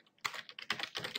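Close, crisp keystrokes on a computer keyboard as code is typed, a quick irregular run of clicks in small bursts.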